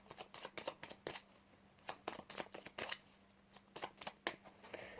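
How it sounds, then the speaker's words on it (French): Tarot cards being shuffled by hand, a rapid run of crisp riffling bursts and soft slaps repeating through the stretch, close and fairly quiet with no talk. "On mélange un peu et on va prendre 6 cartes pour commencer"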